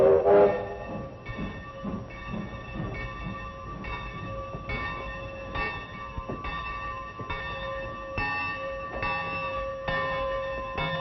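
A steam train on a railway runs with a rhythmic chugging and clanking, a bell clanging steadily and sustained whistle-like tones, moderately close with no talk.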